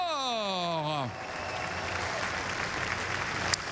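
Audience applause breaks out at a 24 Hours of Le Mans Hyperpole event for the winning driver, a dense, sustained wash of clapping. It follows a short stretch of voice and runs steadily to the end.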